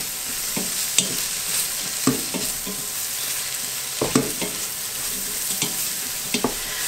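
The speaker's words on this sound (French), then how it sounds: "Et puis les poireaux. Et on va faire suer tout ça," Sliced leeks sweating in a pan give a steady soft sizzle, with a spoon or spatula scraping and stirring them in irregular strokes every second or so; no voices.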